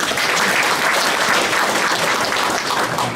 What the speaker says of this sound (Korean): 모든 분들에게 큰 박수로 환영해 주시기 바랍니다